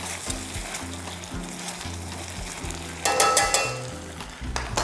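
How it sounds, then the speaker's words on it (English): Tofu sizzles steadily in a pan as it is glazed with a flavorful sauce, the frying hiss continuous with a louder burst of stirring and scraping partway through. "We're just glazing all sides of that tofu."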